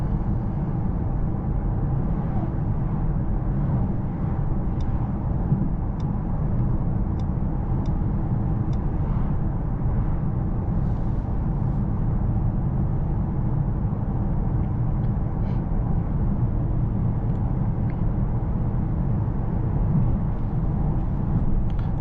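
Steady low rumble of a 2024 Mercedes-AMG S63 sedan's V8 while driving, a constant engine and road drone heard from inside the cabin with no talking.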